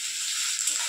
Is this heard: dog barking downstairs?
no